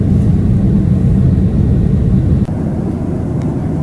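Steady, loud engine roar and airflow inside an airliner cabin in flight, a continuous low rumble with a slight dip partway through and no voices.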